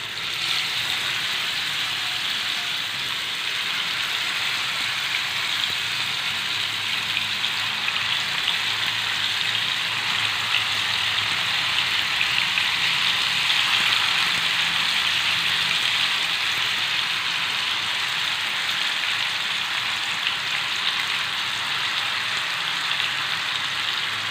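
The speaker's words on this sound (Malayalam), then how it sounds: "ഇതിലേക്ക് നമുക്കിത് നമ്മുടെ ചിക്കൻ ഇട്ടിട്ട് ഫ്രൈ ചെയ്തെടുക്കാം." Chicken pieces frying in hot sunflower oil in a pan, producing a continuous, even, loud sizzling hiss like heavy rain that holds steady for the whole stretch, close and uninterrupted.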